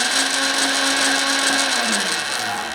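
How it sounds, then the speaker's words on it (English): A cheap dirt bike bought on Amazon revving up close, a loud, continuous high-pitched whine with a tone that holds steady, then sweeps down as the revs ease off. "I wanted to rev it up and see what it could do."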